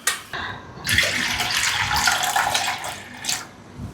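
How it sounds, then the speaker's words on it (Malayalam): Plain water is poured into a clay pot already holding tamarind water, making a close, continuous gurgling splash for about two and a half seconds before tapering off. "കുറച്ച് വെള്ളം കൂടി ഒഴിക്കാം."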